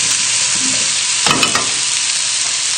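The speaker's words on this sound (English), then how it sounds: "just give your cassoulet a stir" Fish cassoulet and potatoes sizzle loudly and steadily in a hot pan, with one short burst of stirring and scraping partway through.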